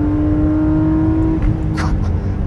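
A BMW M3 E36 engine of about 320 horsepower accelerating, a loud, close, steady roar with a sustained high tone that breaks off abruptly near the middle, then continues as a rougher rumble.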